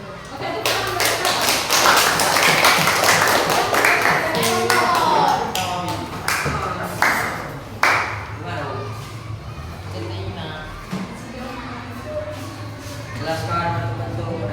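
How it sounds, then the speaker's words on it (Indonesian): Classroom applause for a student named Sofia, a dense burst of hand clapping and taps that fades after several seconds, with voices talking over and after it. "tepuk tangan buat Sofia"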